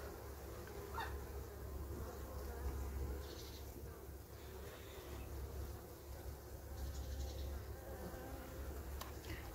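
Honey bees in a colony under food-shortage stress keep up a low, steady buzzing hum, fairly faint, with a few brief louder passes of single bees close by.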